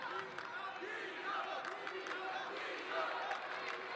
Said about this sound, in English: Not surprisingly, the crowd are getting behind their man.